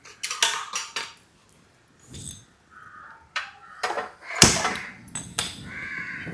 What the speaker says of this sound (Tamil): எண்ணெய் சட்டியை போட்டுருவோம்.